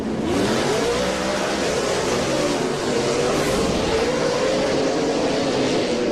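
Several off-road race trucks roar away together at the start of a short-course race, a loud, continuous engine drone rising in pitch as they accelerate, with no talk over it.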